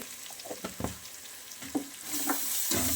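Masala powder and turmeric frying in a pan for bachelor-style mutton biryani, a steady sizzle that swells louder toward the end, broken by several sharp stirring scrapes and clinks close by.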